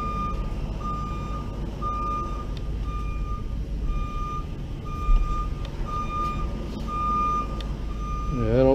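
Reversing beeps from a light-duty tow truck backing up at a rollover scene, a regular string of evenly spaced beeps over a steady diesel engine idle, with a brief thump midway.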